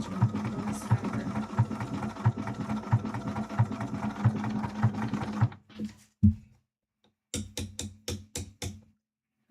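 Sewing machine backstitches cosplay fabric with a quick rhythmic hum for several seconds, then stops; a few short bursts and sharp clicks of the machine follow among near silence.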